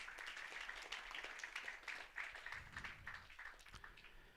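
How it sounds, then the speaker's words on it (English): Audience at a book launch applauding, a soft, steady patter of many hands clapping, heard faint and somewhat distant in the room. "Give Killian a big round of applause."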